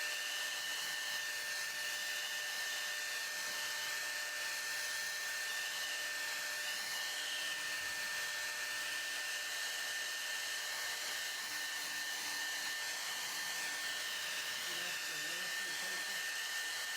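A hair dryer blows continuously over a watercolor painting on cold press paper, a loud, steady, close whooshing whir with a constant whine that holds unchanged throughout, with no talk.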